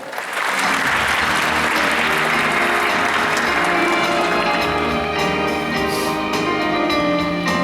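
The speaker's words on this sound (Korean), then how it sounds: "박수로 환영해 주십시오." An audience at a digital broadcasting forum in Seoul breaks into steady, dense applause to welcome a speaker, a full, continuous clapping sound lasting throughout with no talk over it.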